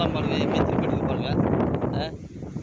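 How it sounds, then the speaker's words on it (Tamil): Strong wind blows across an open area with palm trees, roaring and buffeting the microphone steadily before easing near the end, while a voice speaks under the rush. "அந்த காற்றோட சத்தம் கேட்குமா வீடியோவில் கேட்க பாருங்கள் செம்ம காற்றுங்க"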